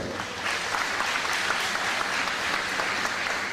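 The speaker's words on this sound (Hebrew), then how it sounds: "תנו להם מחיאות כפיים" An audience at an opening show claps in sustained, dense applause, steady and loud from start to finish with no talk over it.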